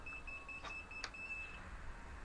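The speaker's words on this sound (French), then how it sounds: "Donc il bip, hein, on le sait." An Ideafly Grasshopper F210 racing drone, lying flat after power-up, gives a string of short, faint, high-pitched beeps, with a couple of soft clicks in a quiet room.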